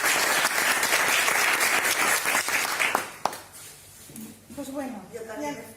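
Audience applause filling a room for about three seconds, dense and steady, then fading out as a voice begins speaking.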